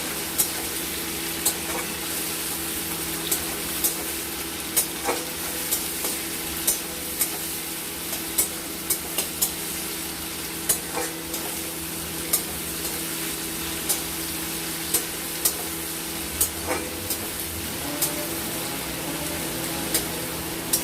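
Tomatoes frying with salt in a pan keep up a dense, continuous sizzle, with light clicks and scrapes from stirring at uneven intervals, close and steady throughout.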